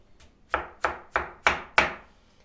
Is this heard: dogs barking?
no